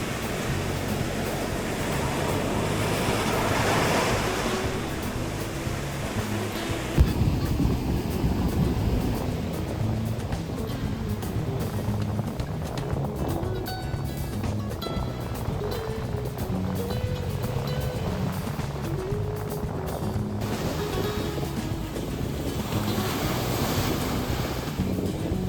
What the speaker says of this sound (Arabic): قررنا ننزل البحر